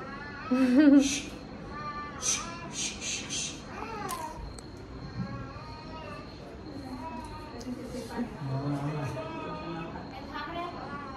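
A cat meows loudly once near the start, then chatter and children's voices continue over a quiet room.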